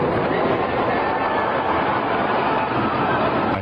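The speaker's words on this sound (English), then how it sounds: "And then it sounded like a freight train, rumbling and picking up speed." North Tower of the World Trade Center collapsing, a continuous loud, dense roaring rumble with a freight-train quality, steady throughout without voices.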